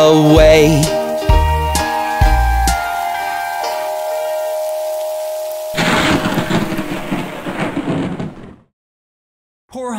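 A short bright musical melody plays, then steady rain-like hiss pours in for a few seconds before cutting off into silence.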